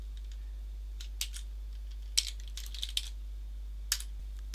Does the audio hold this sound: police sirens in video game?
no